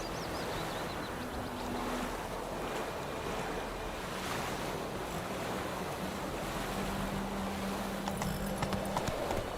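Roach the horse's hooves clip-clop steadily in The Witcher 3 against loud wave and wind noise, with faint melodic tones running underneath.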